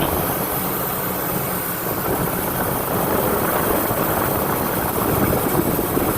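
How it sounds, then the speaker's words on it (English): A truck engine idles steadily on a forest road, its gas pedal held down by a board, giving a continuous loud rumbling drone for several seconds with no talk. "the truck is idling right now because I have a board holding the gas pedal down just enough to keep it running"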